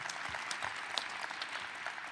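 Applause from a crowd gathered in Detroit for an announcement about the 2024 NFL Draft, a steady patter of many hands clapping, fairly distant and soft, with no talking over it.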